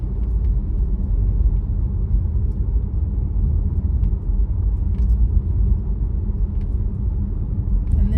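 A car drives through the Laurel Canyon neighbourhood streets on Christmas Eve, heard from inside as a steady, loud low rumble of engine and road noise with no talking.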